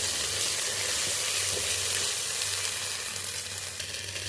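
Paste of ground coconut and roasted gram sizzles in a pan of tomato sambar, a dense steady hiss of frying, close and unbroken, with a faint low hum underneath.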